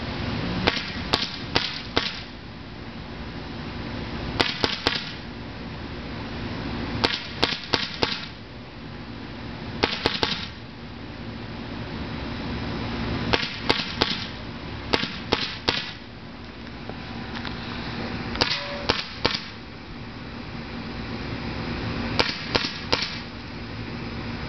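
An Invert Mini paintball marker fires a full hopper outdoors: repeated bursts of sharp, snapping shots, several quick pops per burst with short pauses between, loud and near over a steady background hiss.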